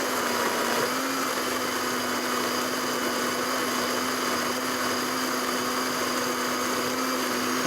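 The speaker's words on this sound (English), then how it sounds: "So right into the blender, and we're going to put a little bit of cream in." A blender whirs steadily, blending butternut squash and pumpkin soup with cream. The motor holds a constant, fairly quiet drone with a slight pitch shift near the start and runs alone without talk.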